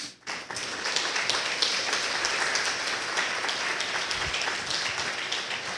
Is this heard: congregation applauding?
yes